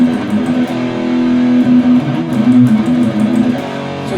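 A sustained, driven electric guitar tone through a booster pedal rings steadily with a thick, boosted midrange, held notes blending together without pause.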